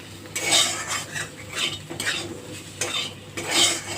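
A utensil stirs fried eggplant with ground neem in a pan, making repeated scraping strokes with metallic clinks in an uneven rhythm over a faint sizzle.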